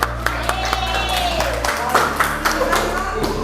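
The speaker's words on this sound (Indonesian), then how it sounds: "Oke, tepuk tangan buat kita semua." A crowd claps and applauds under a speaker's voice, over a low steady hum.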